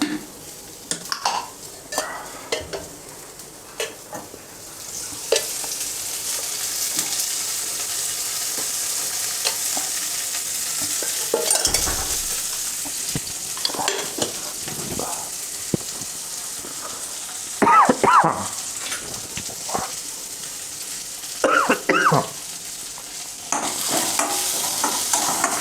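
Garlic fries in hot oil for poha chivda, a continuous close sizzle broken by repeated scraping stirs of a spoon against the pan.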